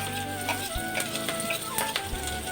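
Minced garlic and green chilies sizzle in a hot pan, a steady close crackle with brief stirring scrapes and small bursts, no voices.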